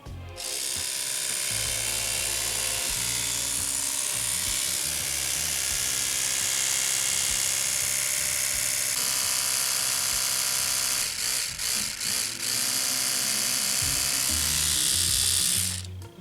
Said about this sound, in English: let the toothbrush run till it hits the 2-minute mark so that you can hear the sound of